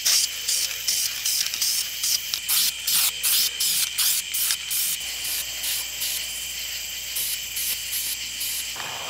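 A 283 engine is spray painted in repeated short hissing bursts from a spray can, each blast lasting about half a second with brief gaps, steady and close, no talking.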